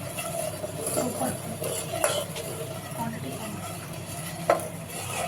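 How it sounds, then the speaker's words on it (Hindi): A spoon stirs honey, milk and an herbal decoction mixture in a vessel, soft scraping and clinking at close range, with one sharper clink near the end. "इसके बाद दूध और कषाय द्रव्य हम धीरे धीरे से पोर करते जाएंगे और इसको मिक्स करते जाएंगे"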